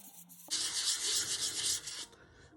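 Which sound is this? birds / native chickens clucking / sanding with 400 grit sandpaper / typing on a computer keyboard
sanding with 400 grit sandpaper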